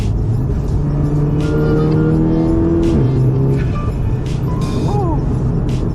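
A Volkswagen MK7 Golf R fitted with a BFI Stage 2 dogbone mount insert drives along, its engine and road noise a steady loud drone throughout, with some brief tire squeal and passing whooshes.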